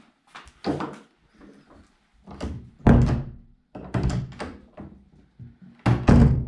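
A Lamborghini-style door to a secret room in a workshop opens with a series of heavy thunks and knocks, several loud bangs spaced a second or so apart, close by.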